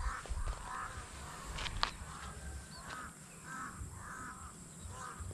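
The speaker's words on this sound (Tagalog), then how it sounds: "Ay, durong kapal po ng uwak." A large flock of crows caws repeatedly near a corn field during harvest, rhythmic harsh calls spaced through the clip over a low rumble of outdoor ambience.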